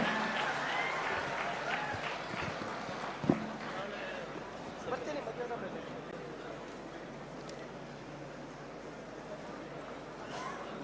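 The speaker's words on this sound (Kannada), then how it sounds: "ಿದ್ದರಾಮಯ್ಯನವರ ಮಾತುಗಳಿಗಾಗಿ ನಮ್ಮ ಪ್ರೀತಿ ಆಹ್ವಾನ ಚಪ್ಪಾಳೆಗಳ ಶುಭ ಸ್ವಾಗತ ಸ್ವಾಗತಿಸಿ ಸನ್ಮಾನ್ಯ ಮುಖ್ಯಮಂತ್ರಿಗಳ" An audience at a constitution and national unity convention applauds to welcome the chief minister. The clapping is strongest at the start and gradually thins and fades under a voice.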